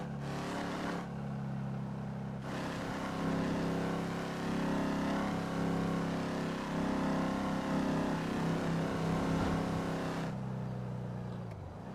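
A rough, droning car engine in a video game runs steadily at idle and low revs, loud and close, with a gravelly rattling tone and no talking.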